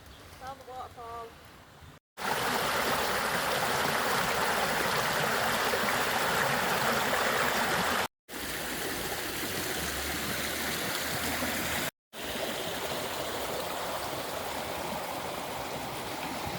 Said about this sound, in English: Found the waterfall.